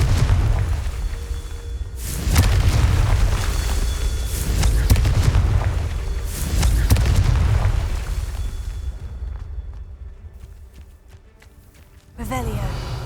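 Confringo blasting spells going off in Hogwarts Legacy, several loud booming explosions spaced a few seconds apart, each followed by a rumbling tail over continuous game ambience, ending with a sharp final blast.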